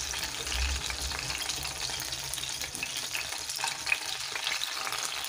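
Meat-and-offal and cherry pirozhki frying in a pan, a steady close sizzle and crackle with occasional louder pops and faint stirring, no one talking.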